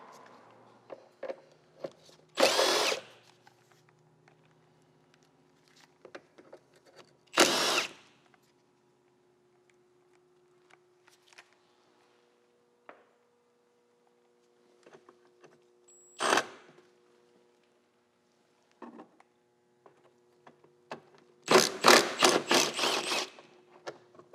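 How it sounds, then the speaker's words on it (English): A power tool loosens the three 12mm bolts holding the charcoal canister on a Subaru, with several separate bursts of whirring drilling spread across a quiet stretch, then a final rapid stuttering run of impact hits near the end. "loosen the three 12mm bolts that hold the charcoal canister in place and drop it down"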